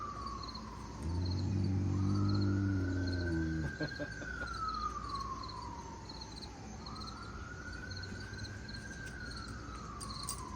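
A siren wails in slow rising and falling sweeps, distant and steady, with crickets chirping throughout and a low rumble early on.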